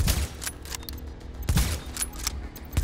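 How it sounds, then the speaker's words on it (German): Rifle shots from a high vantage in The Division, landing as several sharp broadband cracks about a second apart over a low rumbling game ambience, with no talk. "ich schieß auf die anderen, auf die Totgeweihten. Von hier oben mit der Sniper"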